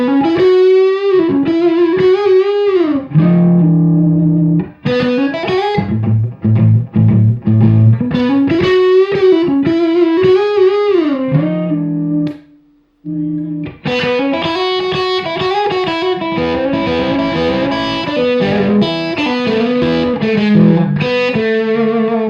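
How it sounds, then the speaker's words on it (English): Distorted electric guitar on the neck pickup, playing a continuous run of lead lines and sustained chords with bending pitches, loud and close, with one short gap near the middle and no talking. "Let me try this neck pickup as well."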